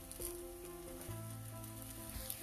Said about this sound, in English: Now we'll start frying it on both the sides till it becomes golden brown.